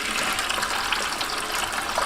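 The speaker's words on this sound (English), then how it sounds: "And I just turn this switch to drain." A portable mini washing machine drains into a bucket as a steady, loud gush of water pours and splashes continuously at close range, with no voices.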